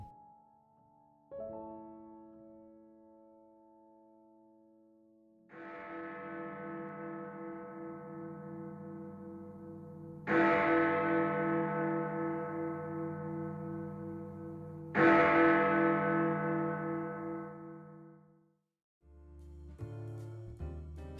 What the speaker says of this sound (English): when hearing those famous Westminster chimes